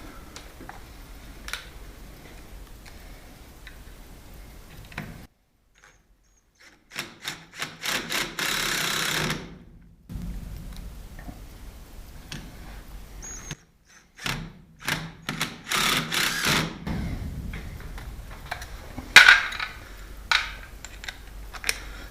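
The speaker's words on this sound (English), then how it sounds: "back to the driver, 2 metal screws." A power screwdriver drives two metal screws into a Lockwood 002 lock, heard as two separate whirring bursts with short pauses between them, close by and fairly loud over a quiet room.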